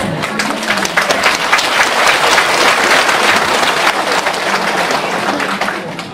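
Large indoor audience clapping at a Buddhist dharma talk in St Albans, Victoria, Australia: dense, sustained applause from many hands, loud and even throughout, tapering slightly at the end.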